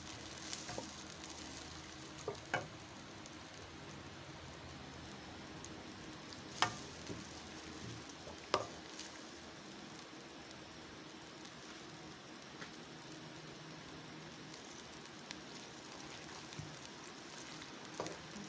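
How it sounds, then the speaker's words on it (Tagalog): Filipino escabeche sauce with carrots simmers in a pan, a quiet, even bubbling hiss throughout, broken by occasional faint clicks. "Hintayin na natin kumulo."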